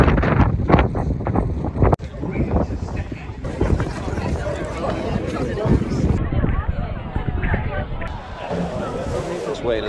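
Strong headwind buffets the microphone along a seafront during a marathon, with heavy gusty rumble. Crowd chatter and voices of runners waiting to start mix in throughout.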